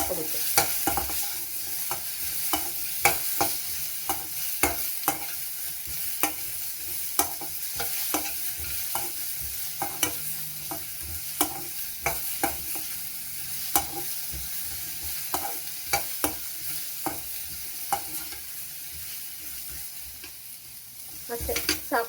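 Coconut fries in a pan for tomato saaru, a low steady sizzle punctuated by rapid, regular taps and scrapes of a stirring spoon against the pan, close and continuous.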